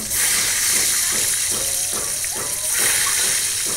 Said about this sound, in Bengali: ডিম সিদ্ধ করে এখন তেলে ভাজি করছে।